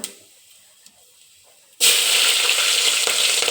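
Tempering spices dropped into very hot oil burst into a loud, steady crackling sizzle that starts abruptly after a quiet moment and continues close up.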